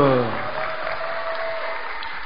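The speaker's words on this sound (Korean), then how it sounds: "박수와 함성을 함께 주시면 아이들이 더 힘이 날 것 같습니다" An audience at a church Christmas performance bursts into applause and cheering, a short, steady wash of clapping that follows a brief spoken call.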